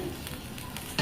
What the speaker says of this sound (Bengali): প্রথমে কড়াইতে সর্ষের তেল